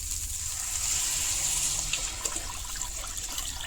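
Water pours into a cooking pot of vegetarian bamboo shoot, jackfruit seed and banana flower curry, a continuous close splashing trickle under a faint hiss.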